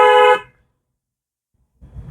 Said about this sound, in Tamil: ஹாரன் வரும்.